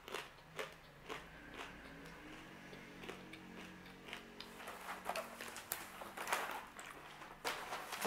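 Crunchy protein focaccia made with black Venere rice and seeds being bitten and chewed up close, with repeated sharp crackling crunches in an irregular rhythm over near silence and no talking.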